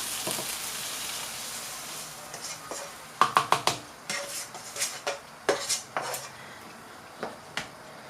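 Beans are added to a cooking pot for homemade Breton-style bean stew: irregular metallic clanks and scrapes of a utensil against the pot, with a soft sizzle underneath and a few sharper knocks spaced over several seconds.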